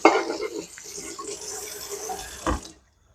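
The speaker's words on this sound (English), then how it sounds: "I'm going to rinse the skins off of this so they don't get mixed in with what I'm going to be cooking." Running water from a kitchen tap rinsing potato skins, a short close splashing stream with a brief louder gush near the end before it cuts off to silence.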